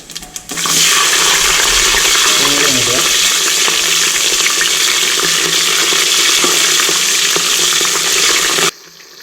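Ingredients for a village-style duck curry stir-frying in a hot pan, a loud, steady broadband sizzle running nearly the whole way with faint scraping from the stirring, then cutting off abruptly near the end.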